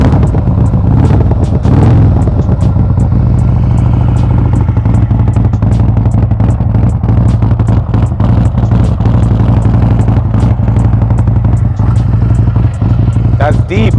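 A motorcycle engine idles with a deep, steady rumble just after a cold start following nearly a month unused, running loud and close throughout, with a person talking over it.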